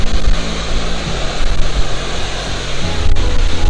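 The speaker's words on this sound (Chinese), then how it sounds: "这里就可以看到非常壮观的这个莱茵瀑布" Rhine Falls in Switzerland, a heavy waterfall roaring as a dense, constant wash of noise, loud and unbroken throughout, with no voices.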